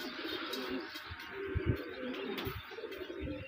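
Colorful pigeons coo repeatedly at a dairy farm entrance, soft low throaty calls pulsing in an irregular rhythm close by, with faint chirps and a steady background hum and no talking.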